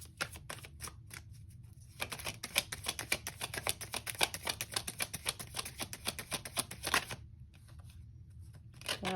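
Tarot cards riffle and snap in a long run of rapid crisp shuffling, starting softly, building to dense fast flicks through the middle, then stopping abruptly before a few faint taps as cards are drawn.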